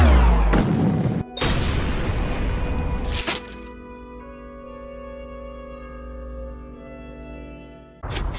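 Sniper gunshots in an anime battle scene: several loud, sharp booming shots spaced a second or two apart, each with a ringing tail, the last one after a quieter stretch of lingering tone.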